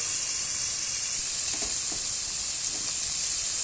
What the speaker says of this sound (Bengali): আমি মরলা মাছগুলো ভালো করে নুন হলুদ দিয়ে মাখিয়ে ভেজে নেব দুবারে ভাজবো